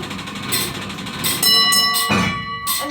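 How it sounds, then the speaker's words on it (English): A bell on a lighthouse clockwork mechanism rings with sustained metallic tones while the winding mechanism clanks and clicks, several strikes close by. "And then it hits the second bell, and that tells you it's back at the top."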